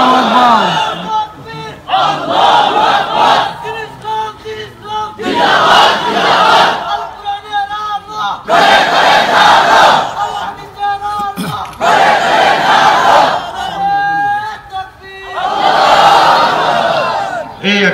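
A large crowd at a 2019 waj mahfil religious gathering of Daulatpur Senior Alim Madrasa shouts the takbir response in loud, repeated waves. Each roar swells, holds for a second or two and breaks off before the next.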